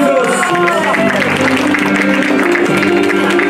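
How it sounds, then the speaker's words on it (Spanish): Continuous applause from guests at a quinceañera as an honor cadet is welcomed, clapping and crowd noise filling the room over a background of voices and music. "George Aguinaga, que se escuchen esos aplausos."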